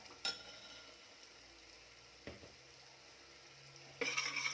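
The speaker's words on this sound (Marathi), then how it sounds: "तर चटणी तेलावर चांगली परतलेली आहे" Chutney sautés in oil in a pan for a Kolhapuri-style brinjal curry, a faint sizzle beneath a few sharp spoon scrapes and clinks against the pan, quiet and close.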